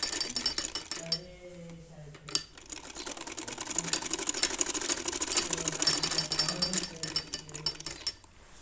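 A sewing machine stitches lace onto a baby frock in quick, steady mechanical bursts, close and clear. There are brief pauses and faint clinks between runs.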